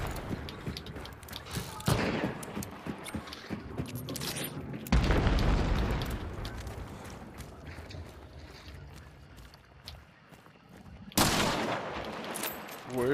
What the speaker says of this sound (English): I just shot a barrel.